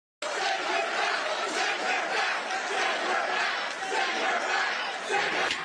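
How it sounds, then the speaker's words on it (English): A large crowd at a Trump political rally roars and chants continuously, loud and dense from start to finish with no pauses. "I love that crowd."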